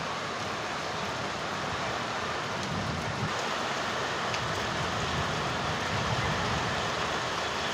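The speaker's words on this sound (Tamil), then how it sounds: "திடீர்னு பார்த்தா டப்னு மழை பெய்ய ஆரம்பிச்சிருச்சு" Heavy rain pours steadily over Chennai, a dense, continuous wash of noise that holds at an even loudness from start to finish, with no voices.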